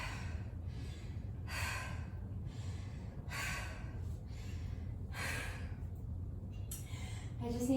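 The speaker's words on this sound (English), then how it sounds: "Slow my breathing down for a few seconds." Heavy breathing after a set of pushups: a run of loud, rhythmic exhalations and gasps roughly every second, close to the listener, over a low background hum.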